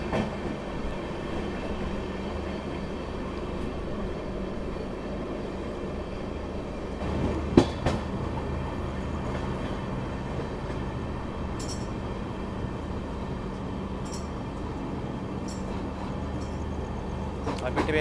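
A Garib Rath Express with LHB coaches rolls along the rails near Ambala, giving a continuous rumbling drone broken by one sharp clunk midway and a few faint squeals later.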